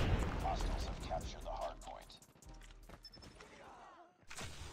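Rapid gunfire from a fast-killing gun in a shooter video game, a quick string of punchy close shots fading into quieter game ambience, with a voice speaking over it.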